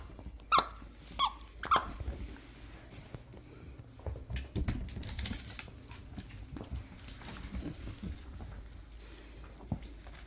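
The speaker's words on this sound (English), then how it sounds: "You heard all the squeaking, Abigail?" Dachshunds play with a squeaky dog toy from a subscription box. Three sharp squeaks ring out close by, followed by soft shuffling, pattering paws and rustling.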